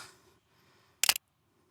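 A single camera shutter release fires with an ultra telephoto lens attached, a sharp, close double-snap click standing alone after near silence.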